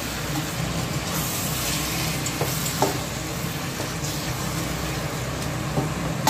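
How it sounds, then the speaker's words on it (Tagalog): Pork meat stirring in a hot pan for Bicol Express, a steady close sizzle and fry with occasional scrape and clack of a utensil throughout, no talking. "ilalagay ko na po yung karne ng baboy. Haluin po natin ng konti"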